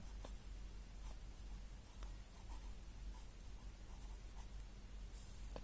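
Writing on a board during a Hindi-language math lesson on mean, median and mode: faint, scattered scratching and light taps under a steady background noise.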